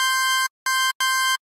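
Three short synth notes from Serum, each with two oscillators detuned a fifth apart, heard as bright, buzzy, steady tones separated by brief silences.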